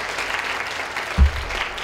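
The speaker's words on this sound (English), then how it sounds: "Yes, you can clap." Applause from a middle school winter band and chorus concert audience after a band piece, a steady broadband wash of clapping throughout with a brief low thump near the middle.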